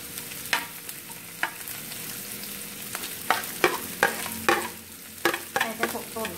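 Garlic and vegetables fry in a pan, with a soft constant sizzle broken by repeated scraping stirs that come closer together and grow louder as the cooking goes on.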